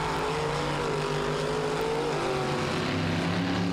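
Two light race cars in a mud race, engines droning steadily with a rising and falling pitch, loud and continuous with no talk.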